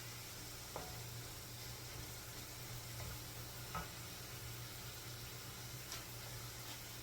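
Finely chopped onions begin cooking in a pan with a soft, steady sizzle, broken by a few faint stirring clicks. The sound is close and quiet, with no speech.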